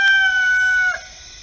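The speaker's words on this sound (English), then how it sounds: "you hear them roosters in the background" A rooster crows once in the background on a quiet morning, a single drawn-out call of moderate loudness.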